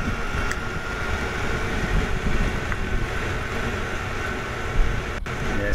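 Strong wind outdoors beside a small 12-volt wind turbine makes a steady, loud, broadband roar with gusty buffeting against the microphone throughout, with no talking.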